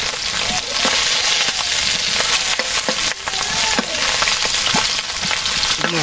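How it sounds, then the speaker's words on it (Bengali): Fish frying in mustard oil in a village kitchen, a loud, dense, continuous sizzle close by with scattered crackles and pops throughout. "মাছ ভাজি হয়ে গেছে, নামাবো।"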